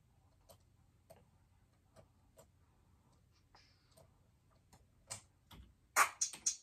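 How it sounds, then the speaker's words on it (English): A dirty clap sample for a hard 808 beat made in Soundtrap plays as quiet, evenly spaced crisp snaps over a faint low hum, ending in a few louder bursts, with no talking. "Let's try the dirt clap."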